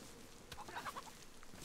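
Chicken clucking in the DayZ game world, a short burst of several quick, soft clucks over a steady background hiss, faint and brief.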